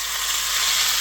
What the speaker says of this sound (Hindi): तो अब हम लगाएंगे तड़का